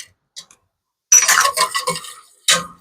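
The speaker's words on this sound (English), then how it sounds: "Stir that in." Tomato paste stirred into enchirito sauce in a pan, a short scraping and clinking burst of spoon against pan, a pause, then a brief second stir, close and fairly loud.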